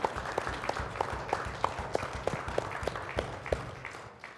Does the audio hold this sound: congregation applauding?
yes